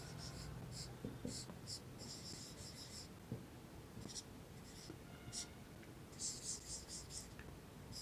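Pen scratching across paper while writing out a geometry proof about parallelograms, in short clustered strokes with pauses, close and quiet under a steady hiss.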